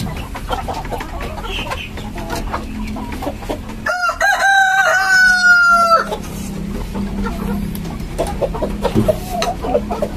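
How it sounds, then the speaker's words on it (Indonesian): Free-range village laying chickens in a backyard coop holding two roosters and seven hens: a loud, close rooster crow rings out for about two seconds midway, with scattered clucking and farmyard bustle before and after. "ini ada 2 jantan dan 7 betina"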